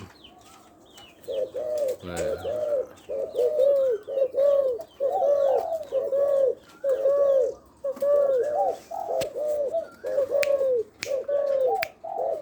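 Repeated soft, rhythmic cooing from a spotted dove, close and steady, phrase after phrase with short pauses, over quiet background.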